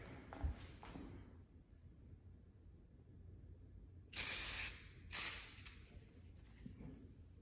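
Cleaner is sprayed onto a pool table rail in two short, sharp hissing bursts about a second apart, close and clear against a quiet room with faint handling noises.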